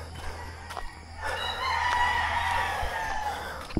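Chickens and a rooster crowing outdoors on a mountain hiking trail near Talumpok West, Batangas City, the crow rising mid-clip and holding over steady farm clucking, moderately near.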